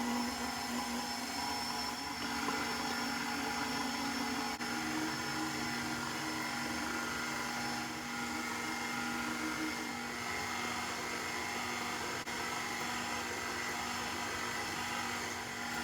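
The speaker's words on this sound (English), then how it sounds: "Start the mix on low so that way it won't splatter all over." An electric mixer runs on low speed, beating flour and other dry ingredients into sweet potato pie cookie dough with a steady, close whirring drone and no break or talking.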